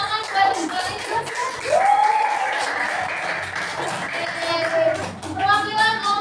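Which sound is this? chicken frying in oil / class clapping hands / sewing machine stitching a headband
class clapping hands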